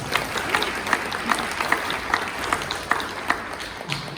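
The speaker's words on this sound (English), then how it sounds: "please give Natalie a big round of applause" At a university magic and mind-reading show, an audience applauds for Natalie with a roomful of hands clapping, settling into a loose rhythmic beat of accented claps, steady and moderately loud throughout.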